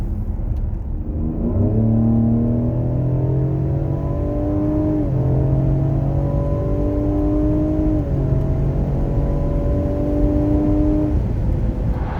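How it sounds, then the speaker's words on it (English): Exhaust note of a 2020 Ford Explorer ST in sport mode: a loud engine revving up in three rising pulls, each climbing in pitch and then dropping as it shifts, with no talking. "you'll see what's interesting about that exhaust note from sport mode."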